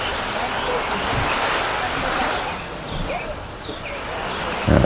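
Surf rolling onto the beach at the Riu Montego Bay hotel in Jamaica after Hurricane Melissa, a steady broadband wash with gusts of wind across the microphone and no voices.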